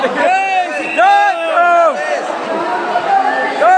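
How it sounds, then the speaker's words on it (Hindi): Large, lively crowd at a Ramlila gathering in Ayodhya, with overlapping voices, calls and chatter close by; someone talks prominently over the hubbub. "भीड़ बहुत ज्यादा लगी हुई है फुल यहाँ पर भीड़ लगी हुई है"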